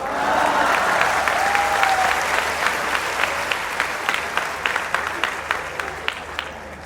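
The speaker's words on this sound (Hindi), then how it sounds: "और इस बार आपकी तालियां उठेंगी" A live audience at a Hindi satirical poetry performance bursts into loud, dense applause that slowly thins into scattered individual claps.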